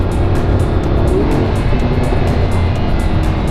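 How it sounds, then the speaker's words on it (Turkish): A car in Corsa mode roars at high revs on a racetrack, with sharp exhaust pops and crackles on downshifts standing out above a loud, continuous engine and road rumble, close by. "Egzozdan çıkan vitesler düşünce patlamalar muhteşem."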